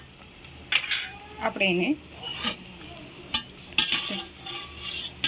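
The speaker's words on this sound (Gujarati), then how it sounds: "આ રીતના આપણે હલાવી નાખશું." Cauliflower and potato sabzi with fresh coriander is stirred in a frying pan, a spoon scraping and clinking against the metal over a soft sizzle, in several close strokes with a brief spoken phrase.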